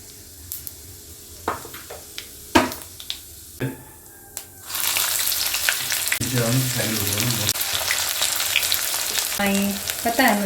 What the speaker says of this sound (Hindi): उसको मैं अलग ही भून लेती हूँ